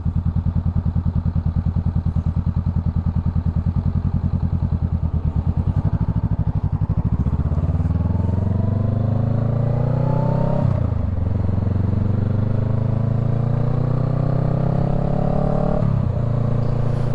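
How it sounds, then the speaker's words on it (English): A motorcycle, a Honda Rebel 500 on a road trip, rumbles steadily and then passes close by with loud rising and falling engine sweeps. A second pass follows, all without talk. "there's a motorcycle that I can hear"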